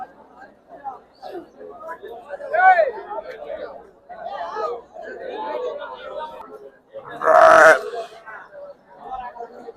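Sheep and lambs bleat amid a busy livestock market crowd, with steady chatter and bargaining voices throughout and one loud, close bleat rising clearly near the end.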